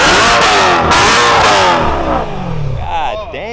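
A stock BMW M3 E92 engine revs hard and loud, with rising and falling sweeps of engine pitch close by as people talk over it.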